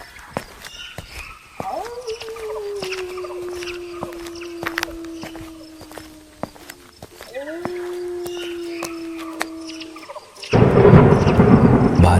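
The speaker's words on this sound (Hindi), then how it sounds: "बादल बहुत जोरों से गरज रहे थे।" A heavy thunder crash during a rainstorm hits loud and broad near the end, after a long, steady low drone broken by faint scattered clicks.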